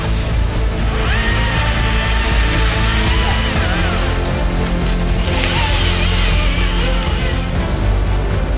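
A chainsaw felling trees while clearing a small woodland food plot: a steady, loud engine drone runs throughout, with slight shifts in pitch as it cuts, close by and with no talking.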